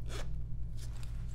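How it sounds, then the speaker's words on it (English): A short, quiet zipper pull on a compression stocking, two brief rasping strokes close up over a low steady hum. "I'm going to pull it gently away from her skin as I zip up"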